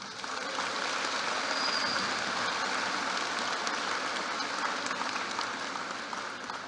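A graduation audience applauds teachers and staff, a dense, continuous wash of many hands clapping at once, steady and fairly distant, filling the whole stretch without talk.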